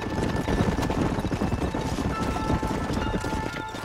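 Horses galloping in the Red Dead Redemption video game, with rapid, overlapping hoofbeats drumming continuously at close range.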